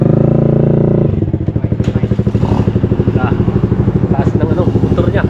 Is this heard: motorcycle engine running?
yes